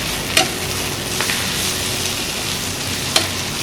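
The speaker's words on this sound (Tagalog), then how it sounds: "So then, haluin lang natin ito ulit." Omelette ingredients, seasoned with salt and pepper, hiss steadily in a hot pan while being stirred, with a couple of sharp utensil taps against the pan over the close continuous sizzle.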